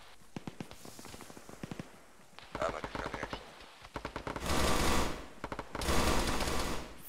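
Squad machine gun fire during an infantry bunker assault in the Arma military video game: rapid bursts of sharp cracks, first sparse volleys, then heavier sustained automatic fire swelling into two dense, loud stretches near the end.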